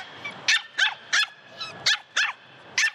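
A puppy yips in a run of seven sharp, high barks at roughly even intervals, close and clear with no talking.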